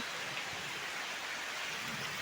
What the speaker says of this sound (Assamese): বৰষুণত তিতি তিতি আছো